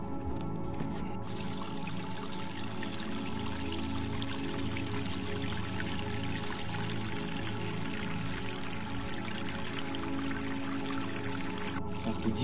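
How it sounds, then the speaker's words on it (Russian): A small stream of water trickles out of rocks, a steady, close burbling and splashing flow that continues without pause and with no talking. "Из скал откуда-то вытекает эта вода. Ручеек."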